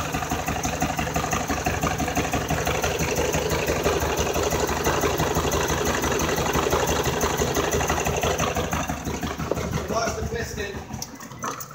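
Engine with a failed piston running rough, a loud steady uneven drone with knocking pulses throughout, easing slightly near the end.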